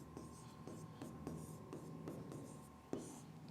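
Pen or chalk strokes on a writing surface while the Hindi word for natural habitat is written out, a series of short taps and scratches spaced about half a second apart, close and moderately faint with a steady tone in the background.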